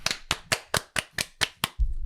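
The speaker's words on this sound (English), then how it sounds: "I think the audience is clapping" An audience claps in a quick, even burst of about eight sharp claps, close and loud, stopping abruptly.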